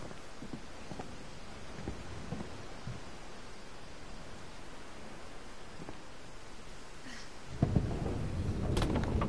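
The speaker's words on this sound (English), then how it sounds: "Stormy night." Stormy night in What Remains of Edith Finch: a continuous wash of rain with soft distant thunder rumbles, swelling into a louder nearby rumble toward the end.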